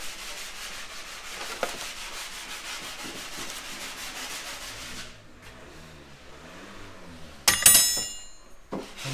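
A paintbrush scrubs paint onto the chassis-mounted splitter of a track-prepared Nissan Skyline R32, giving steady rhythmic rubbing strokes that are close and fairly quiet, followed by a sudden short clatter near the end.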